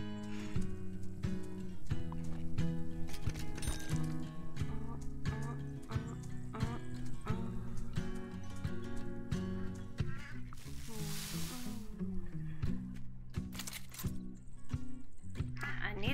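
Horses in the farming video game Farm Together, with soft hoof clip-clop and an occasional whinny mixed under steady, prominent background music for the whole stretch.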